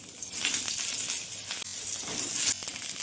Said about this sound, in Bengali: প্রথমে আমি ঝিঙেগুলো ভেজে নেব।